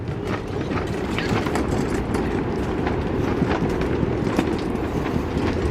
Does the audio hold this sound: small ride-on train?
yes